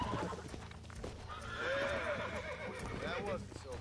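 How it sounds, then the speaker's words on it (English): A horse in Red Dead Redemption gives two rising, whinnying neighs amid steady hoof clip-clop and game ambience, fairly faint overall, with a voice speaking over parts of it. "And just like that, I've acquired a horse."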